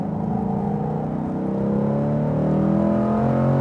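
A Chevrolet Corvette C8 engine pulls steadily on a Speed Vegas track. Its loud in-car drone climbs in pitch under easy throttle, with a smooth rising whir and no talking.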